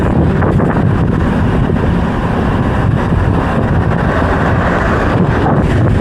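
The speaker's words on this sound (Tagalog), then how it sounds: "Ang lakas ng hangin." Strong wind roars continuously and loudly during a bike ride on the Sta. Rosa–Tagaytay Road in the Philippines, buffeting the microphone with a thick, rumbling rush and no pauses.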